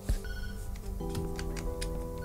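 Telephone ringing inside the horror video game Tattletail, a steady electronic ring tone with bright repeating pulses, close and clear with no talk over it.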